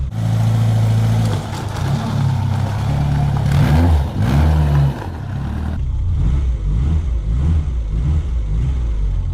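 A warmed-up three-wheeler car engine with a choke runs steadily and loud, its low mid-range drone rising and falling with a few revs, then settling into a rougher idle-like rumble.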